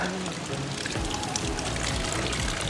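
Water pours and splashes continuously at close range, a steady rushing flow with a faint murmur of voices underneath, as a man drinks on a trek in Jumla, Nepal.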